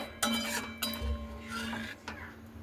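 A spoon clinks and scrapes against a pot while stirring thick caramel-coloured vermicelli payesh, a few distinct metallic knocks spread over a couple of seconds, fairly quiet and close, with a steady low hum underneath.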